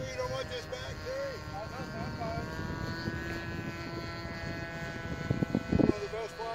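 A propeller airplane engine drones steadily close by, a continuous tonal hum with louder thumps near the end.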